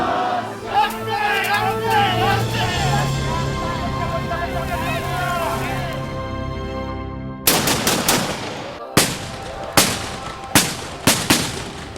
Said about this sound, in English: frightening sound of muskets